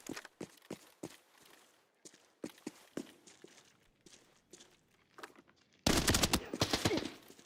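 Video game gunfire in a Nerf-themed solo match: scattered sharp single shots and short bursts in a rapid irregular rhythm, fairly close, ending in a dense loud burst of sustained automatic fire.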